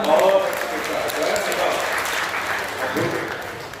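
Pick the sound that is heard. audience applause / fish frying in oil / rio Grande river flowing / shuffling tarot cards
audience applause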